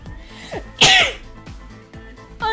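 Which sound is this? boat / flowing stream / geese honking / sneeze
sneeze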